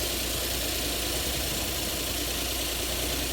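A car engine idling after a cylinder head gasket repair, a steady close mechanical drone with even low throbbing and broadband hiss, continuous and loud for a few seconds with no talking.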